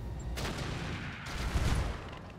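A Warlord mech fires its weapons at an enemy Orion mech in the video game RogueTech: two heavy broadband blasts over a sustained low rumble.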